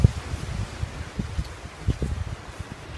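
Gusty wind buffets and rustles with low rumbling bursts, close and uneven, like air blowing across a microphone outdoors.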